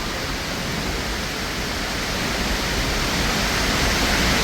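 A roaring waterfall, heard from right beneath it on a cave and waterfall outing, makes a dense, steady, loud rush of falling water that fills the whole clip without a break.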